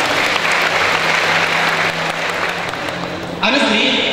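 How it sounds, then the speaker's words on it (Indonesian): An audience at a university seminar on a novel applauds in a dense, steady burst of clapping throughout, and a voice joins near the end. "Tepuk tangan untuk Mbak Asma Nadia dan kita semua."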